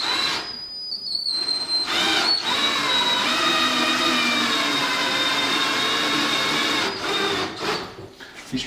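A power drill driving trim screws into a wooden removable stair rail, its high whining motor running steadily for several seconds between short pauses, close and fairly loud.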